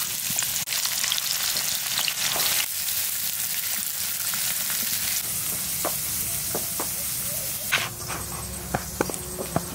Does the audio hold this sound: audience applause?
no